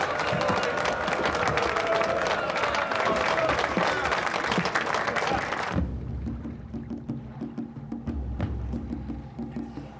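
Broad, dense applause and crowd noise roars steadily for several seconds, then cuts off abruptly into a low rumbling background with faint knocks.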